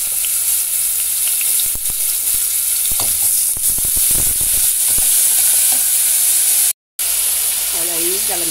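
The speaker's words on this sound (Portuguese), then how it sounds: "já tá refogando o bacalhau agora" Salt cod sautéing in olive oil with scallions gives a steady loud sizzle and hiss that runs throughout, with scraping stirs around the middle and a brief dropout near the end.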